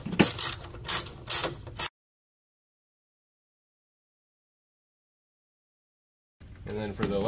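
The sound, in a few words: ratchet loosening 10mm nuts on Hellcat intake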